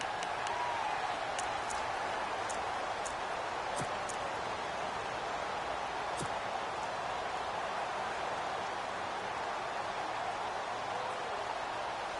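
Crowd noise in a PS4 American football game between the Indianapolis Colts and the Houston Texans: a steady, dense roar of cheering with scattered faint claps, fairly even and continuous throughout, without any talk.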